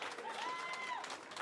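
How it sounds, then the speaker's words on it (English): A fight night crowd at NLC Fight Night 19 roars and applauds in a brief, distant wash of cheering and clapping, heard faintly in the background. "And just listen to that crowd."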